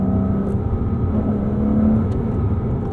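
A 2005 Porsche Boxster S with a manual gearbox revs with a loud, steady engine drone and deep rumble heard close, holding a sustained pitch throughout.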